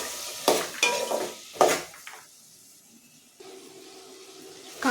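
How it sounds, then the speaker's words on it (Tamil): Carrots, beans, potato and soaked peas sautéing in a pan for vegetable biryani, with a few loud bursts of stirring and frying near the start, then a quieter sizzle with a faint steady tone. "காய் ஒரு பத்து நிமிஷம் வதங்கட்டும்"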